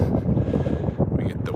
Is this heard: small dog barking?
no